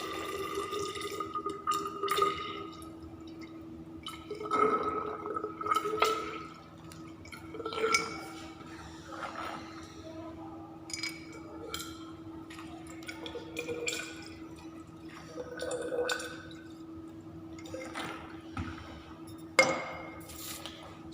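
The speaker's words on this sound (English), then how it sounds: "So with the measuring cylinder, we are taking 50 ml of water." Water poured into a measuring cylinder in a chemistry lab, heard as soft intermittent splashes, drips and glassy trickles with quiet pauses between pours.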